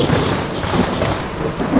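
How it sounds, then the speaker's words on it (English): Loud, close rumbling thunderclap with a steady hiss of heavy rain underneath in a storm, lasting the full two seconds. "a burst of lightning and clash of thunder came all at once"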